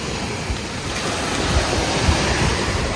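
Sea waves roll in beside the Amara Luxury Resort & Villas in Göynük, Kemer, Turkey, a loud, steady wash of surf mixed with gusty wind rumbling against the microphone, with no one talking.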